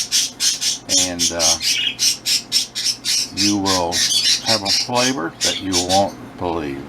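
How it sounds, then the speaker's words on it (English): Pet birds in a home kitchen squawk over and over in sharp, piercing bursts while a person talks at normal volume over them. "you can probably hear our birds in the background"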